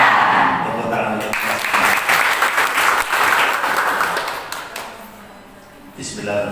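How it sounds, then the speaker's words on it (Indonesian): Audience applause at a teachers' training gathering in Lamongan, Indonesia, a dense sustained wash of clapping hands that fades slightly near the end, with some voices mixed in. "Tepuk tangan untuk"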